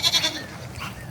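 A young orphan goat kid bleats once, close and fairly loud, the call falling away into quiet farmyard background.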